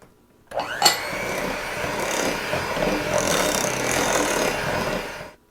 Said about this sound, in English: I'm just going to blend this together until it's creamy